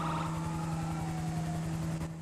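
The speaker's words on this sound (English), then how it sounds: "Why are we on annoying sirens?" Police car siren inside the video game GTA V, a steady wailing tone held loud and continuous over a low rumbling engine drone, with a faint higher warble fading through the middle and no talking.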